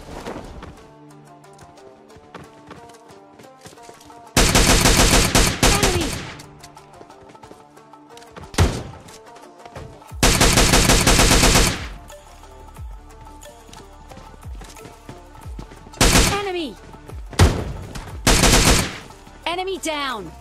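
Gunfire in the video game PUBG Lite, several loud separate bursts of rapid shots spread over the span, with quieter in-game sounds and a voice between them.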